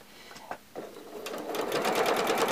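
A sewing machine back tacking the seam of a fabric face mask. It gives a few short stitching bursts first, then settles into a steady, close whirring run that gets louder.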